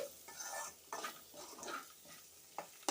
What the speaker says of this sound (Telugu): ఇవి బాగా వేయించాలి ఇంకా బాగా వేగాలి